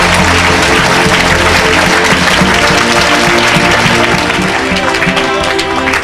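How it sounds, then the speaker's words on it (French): A church congregation applauds and cheers during a service, a loud, dense, unbroken wash of clapping that holds for about six seconds. "Quelqu'un acclame le Seigneur."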